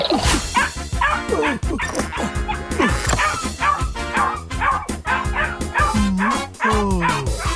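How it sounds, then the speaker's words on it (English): A cartoon dog in a front yard growls and barks in a busy run of yips and bow-wows, loud and close, mixed with background music and other animated sound effects. "the dog wakes up, growls, and chases him away."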